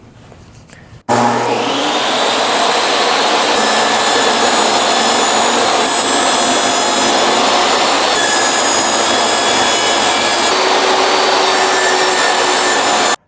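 A power saw starts up abruptly and whines loudly and steadily, cutting through wood for several seconds before stopping.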